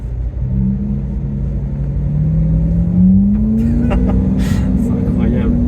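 A Lamborghini Aventador engine hums steadily from the driver's seat, its pitch climbing gradually as the car accelerates, with people talking over it inside the cabin.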